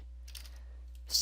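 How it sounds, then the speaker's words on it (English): Typing on a computer keyboard, a few soft scattered key taps followed by a sharper press near the end, close up over a steady low hum, no talk. "type in ipconfig space /all and then hit Enter on your keyboard again"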